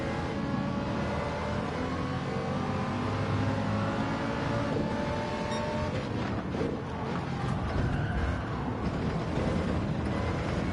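An Audi TT engine in Gran Turismo 7 revs hard and steadily, with rising and falling harmonic whine and sustained loud roar throughout, amid other race car noise and no talk.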